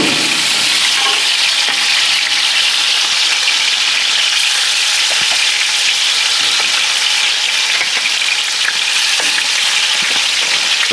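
Lamb chops fry in plenty of tallow in skillets over medium heat, a loud, steady, close sizzle and crackle with no break and no talking.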